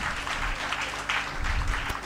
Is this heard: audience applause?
yes